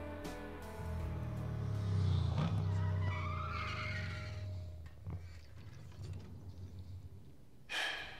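A motorbike crash in the video game Transistor, a long, low skidding rumble with rising scrapes that fades out, followed by a short sharp burst near the end.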